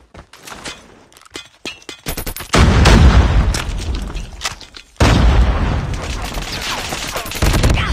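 Grenade blasts and heavy gunfire in a war video game, with loud booming explosions and rattling fusillades that come in two strong surges after quieter shots at the start.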